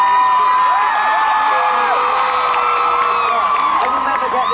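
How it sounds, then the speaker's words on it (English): A large crowd at the Harry Potter and the Deathly Hallows Part 2 world premiere screams and cheers, loud and continuous, many high-pitched shrieks and whoops layered into a dense roar that never lets up. "everyone's screaming and happy"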